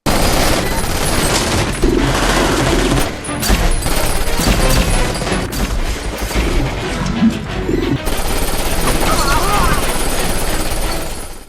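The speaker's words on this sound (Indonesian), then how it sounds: "Bertempur dalam kegelapan memberi keuntungan bagi Alex yang memiliki sensor panas dan tembakan jitu." Dense bursts of gunfire and crashing impacts fill a loud, chaotic film battle scene fought in darkness, with a voice speaking over the din throughout.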